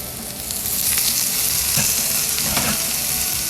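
Onions frying in olive oil in a home kitchen pan while eggplant is being cooked, a steady close sizzle and crackle with a few louder spatters and stirring scrapes, no talk.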